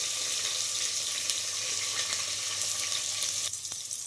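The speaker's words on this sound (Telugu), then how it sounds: "కరివేపాకు ముందుగా కట్ చేసి పెట్టుకున్న ఎర్రగడ్డలు చక్కగా రాగాలి." Red onions and curry leaves fry in a pan, giving a steady, close crackling sizzle with a faint watery hiss throughout and no voices.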